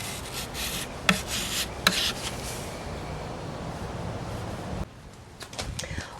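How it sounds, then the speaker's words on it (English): Scuff sanding the base of a wooden table with 220-grit sandpaper gives a steady close rasping rub, broken by a couple of sharp knocks, and the rubbing stops near the end. "I took some 220 grit sandpaper and I scuff sanded the base"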